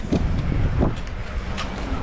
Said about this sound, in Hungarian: ups, nagy a szél